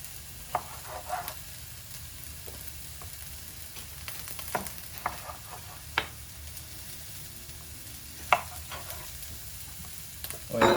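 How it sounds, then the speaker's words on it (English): Chopped onions sizzle steadily in a pan while being stirred, with scattered scraping clicks from the utensil over the continuous close frying hiss. "we have to make sure we mix our onions up so they don't burn"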